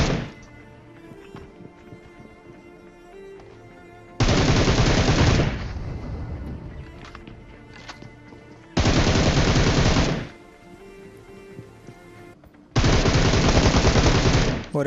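Automatic gunfire in the battle-royale game PUBG: three loud sustained bursts, each lasting a second or two, separated by quieter stretches of game sound.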